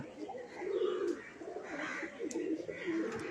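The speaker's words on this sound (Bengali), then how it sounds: "দেখছেন বিভিন্ন ধরনের পায়রা" Domestic pigeons of several kinds, including white ones, coo softly at a rural mission in Bengal, their low throaty calls rising and falling in overlapping phrases close by, with faint bird chirps around.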